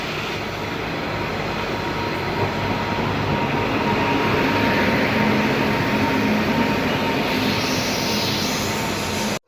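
A Hazur Sahib–Ganganagar express passenger train, number 12485/86, rumbles along steadily, a loud continuous roar of wheels and carriages with a faint whine, heard from on board.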